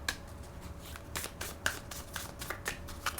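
Tarot cards being shuffled and drawn from the deck, a run of crisp close riffles and soft slaps arriving in quick bursts, with no talking.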